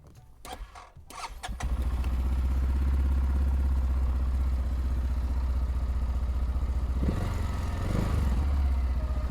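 A Linhai TV 650 Long ATV engine cranks briefly and catches, then settles into a loud, steady near idle with a low rumble that swells slightly near the end.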